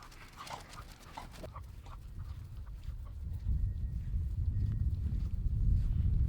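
Several dogs move about close by outdoors, with panting, scuffling and soft footfalls building steadily louder over a few seconds, no clear barking, in a rural setting with multiple generations of the same dogs.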